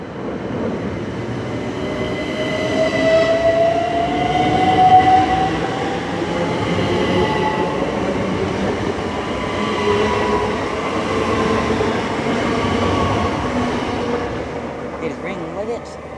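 A Great Western Railway electric train passing Twyford station on the Great Western Main Line, a steady loud rumble and rolling hum held close throughout, easing slightly toward the end.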